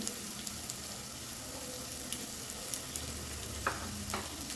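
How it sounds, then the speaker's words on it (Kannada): Onion and green chillies frying in oil in a pan, a soft steady sizzle with occasional stirring scrapes and small pops, close and fairly quiet with no talk. "ನೆಕ್ಸ್ಟು ಸ್ವಲ್ಪ ಈರುಳ್ಳಿನ ಹುರಿಲಿಕ್ಕೆ ಹಾಕ್ಕೋಬೇಕು"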